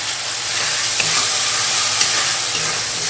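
Spice paste and rinse water poured into fried onions in a pan, producing a loud, dense, continuous sizzle and hiss close by that holds steady throughout.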